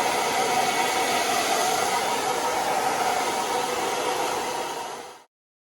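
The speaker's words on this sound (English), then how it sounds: "This one, I'm going to give it a blast with a hairdryer." A hairdryer blasts a strong, steady airflow roar over toy-based Warhammer terrain, close and loud with no talk, then cuts off abruptly near the end.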